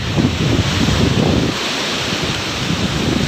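Surf on a new beach where a canal meets the sea, a loud, continuous wash of breaking waves mixed with heavy wind buffeting the microphone, with no voices.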